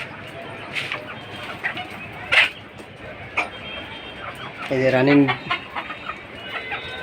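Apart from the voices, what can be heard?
laying hens clucking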